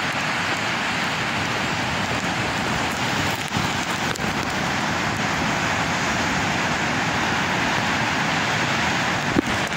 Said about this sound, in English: And the rain coming on, but we taking wet.